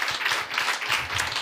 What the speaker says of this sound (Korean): 자, 박수로 주님께 영광 받으며